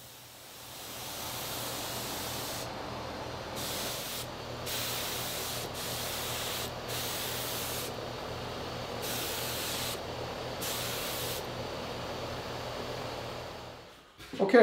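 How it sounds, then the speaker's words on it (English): A spray gun hisses steadily in long continuous bursts, applying waterborne finish to a wooden Shaker bench, with brief pauses and shifts in the airy spray, close and fairly even. "I'll spray the bench with 3 coats, sanding lightly in between coats."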